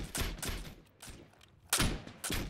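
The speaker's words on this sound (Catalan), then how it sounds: "provarem un tret més. Foc." Muskets fire in volleys from an infantry line in a video game, several sharp, loud blasts in quick succession with brief gaps, sounding close and ragged rather than perfectly together.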